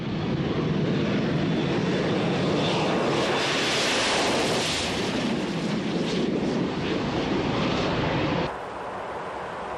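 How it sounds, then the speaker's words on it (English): A British Aerospace Harrier GR5 jet roars loudly and continuously, a broad, washing blast of engine noise that swells and then drops abruptly to a lower rush near the end. "the Harrier GR5 can still get airborne in less than 350 meters"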